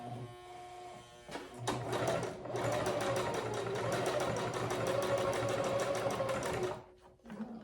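Sewing machine running a straight stitch on a shirt, a fast, steady mechanical chatter lasting about five seconds that is close and even, with a few clicks before it starts and after it stops.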